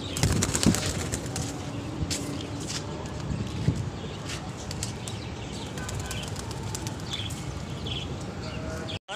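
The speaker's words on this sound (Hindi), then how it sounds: "देख सकते हैं कबूतर सारे" Flock of pigeons flapping their wings and cooing, with dense broadband rustle and fluttering bursts throughout, steady and fairly loud.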